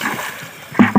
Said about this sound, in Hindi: गंदा पानी इसमें फेंक दूँ